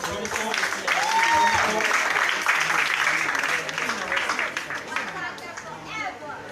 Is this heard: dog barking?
no